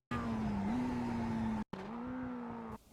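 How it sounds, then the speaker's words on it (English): A Mazda MX-5 in iRacing at Oran Park South brakes hard and downshifts, its engine note holding steady then dropping briefly to silence before the revs resume and cut off, loud and close. "Go hard on the brakes and downshift as soon as possible to make use of the engine brake"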